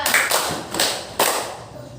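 Elementary schoolchildren in a social studies class clap together on a teacher's count: three separate, crisp group claps spaced under half a second apart in a small room.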